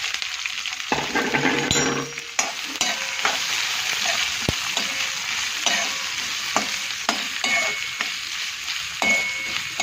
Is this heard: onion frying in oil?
yes